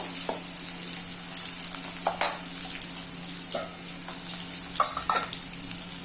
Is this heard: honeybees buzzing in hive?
no